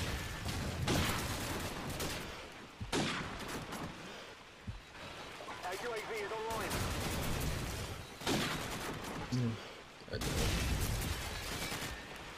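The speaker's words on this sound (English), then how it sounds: "Two more shots." Gunfire in Call of Duty 4, a multiplayer match with sniping on a map, with bursts of loud sharp shots and booming blasts repeating every few seconds as someone talks over the action.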